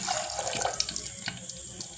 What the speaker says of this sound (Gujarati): હવે નાખો પાણી